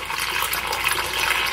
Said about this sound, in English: go and pour in your hot steaming water.